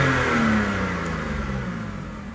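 A BMW F10 with an N52 engine on a test drive after repair of an injector circuit fault, its engine humming steadily and close with a slowly falling pitch as the car cruises, no talk.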